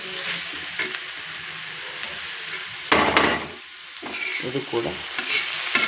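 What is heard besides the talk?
tomatoes frying in oil in a pan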